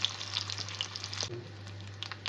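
Mustard seeds, cumin, dried red chillies and curry leaves fry in hot oil for a vankaya curry, making a close crackling sizzle with scattered pops over a steady low hum.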